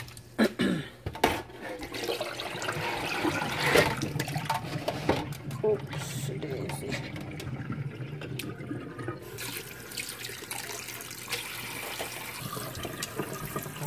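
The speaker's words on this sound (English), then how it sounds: "I'm going to put them in the colander again" Rinse water drains from washed oxtail pieces in a colander in a kitchen sink, a continuous close rush and splatter of running water, with someone talking over it.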